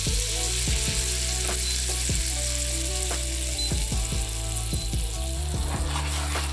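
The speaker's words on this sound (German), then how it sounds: "Lassen wir die Butter kurz anschmelzen." Butter sizzling and frying in a hot pan before bread dumplings go in, a dense continuous crackle with scattered sharp pops, close and loud, with no talking.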